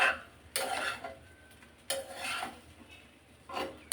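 Vegetables being stir-fried in a pot for Chinese vegetable fried rice, with three loud scraping strokes of a utensil against the metal, spaced about every one and a half seconds over a soft background sizzle.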